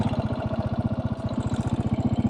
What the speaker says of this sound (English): 440 some cc single cylinder engine.